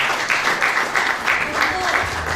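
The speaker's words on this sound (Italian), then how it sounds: "Rinnovare ancora un applauso per" Steady applause from a crowd at a Sicilian poetry and song show fills the whole stretch, even and sustained, with a faint voice murmuring underneath.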